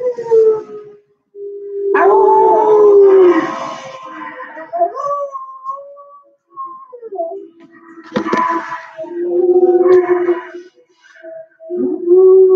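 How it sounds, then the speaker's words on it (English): A young puppy howls for the first time in a series of rising and falling wails, loud and close, with pauses between howls and a few whimpering breaks. "Little puppy's howling for the first time."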